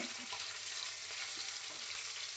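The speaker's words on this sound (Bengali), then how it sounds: "শোল মাছ বেশি ভালো ভাজবো না, হালকা করে ভাজতে হয়" Pieces of fresh snakehead fish fry lightly in a large pan, a soft, steady sizzle and crackle of hot oil, quiet and continuous with no talking.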